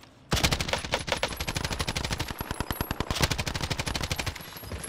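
A PKM machine gun in a Call of Duty Warzone match on Alcatraz fires long, rapid sustained bursts, loud and close, with a brief pause midway and no talk over it.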